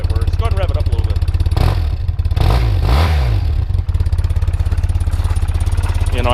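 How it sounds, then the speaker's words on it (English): A 1993 BMW R100GS-PD Paris-Dakar motorcycle's boxer engine idles with a steady low thrum, then is revved a few times in quick rising-and-falling surges before settling back to idle, loud and close. "Go ahead and rev it up a little bit."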